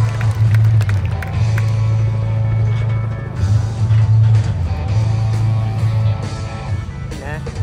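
Rodeo crowd at the Canterbury rodeo in New Zealand applauding a bronc rider, a steady loud wash of clapping and cheering with low rumbling wind or crowd noise underneath.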